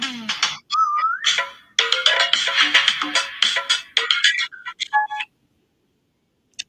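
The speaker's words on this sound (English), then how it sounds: "was my phone ringing?" A melodic electronic ringtone plays loudly up close, a rapid run of chirpy tones and trills that cuts off, followed by silence and a faint click.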